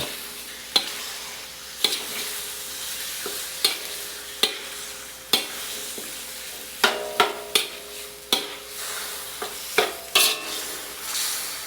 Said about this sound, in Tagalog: Haluin natin to.